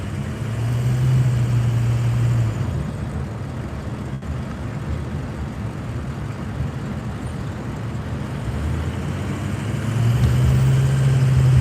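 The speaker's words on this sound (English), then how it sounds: "I don't think this traffic's changed down here" Steady roar of busy road traffic on the west side of Phoenix, Arizona, in extreme heat, with cars and heavy vehicles rumbling continuously nearby and deeper engine drones swelling at the start and end.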